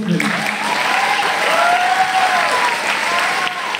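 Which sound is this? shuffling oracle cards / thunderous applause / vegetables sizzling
thunderous applause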